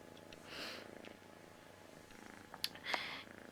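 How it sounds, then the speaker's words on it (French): A pet cat named Mimi purrs softly and steadily up close, a faint continuous rumble with small rustles over it. "mais elle ronronne."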